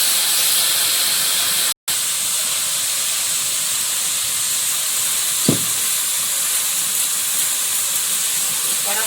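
A splash of water poured into a hot pan of frying vegetables with turmeric and salt, giving a loud continuous steamy hiss that fills the whole stretch, with one brief drop-out and a soft knock midway.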